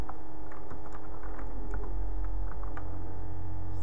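Typing on a computer keyboard while setting up a dedicated IGI 2 server: a close run of light, irregular key clicks over a steady low hum, with no talking.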